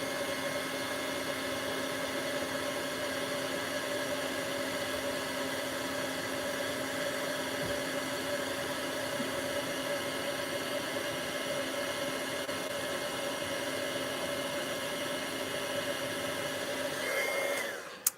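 A heat gun blasts steadily while melting embossing powder, a continuous loud whooshing hum with a faint whine that holds for the whole stretch and cuts off abruptly at the end.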